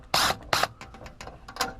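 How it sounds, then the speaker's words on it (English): An impact driver backs screws out of a light ballast, giving two sharp, loud buzzing bursts up close, then lighter rattling pulses of hammering as the screw loosens. "Now, this is my impact driver"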